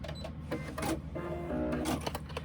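A seam is sewn on a sewing machine with a steady mechanical whir and rattle that continues throughout, mixed with clicks and faint tonal squeaks close by.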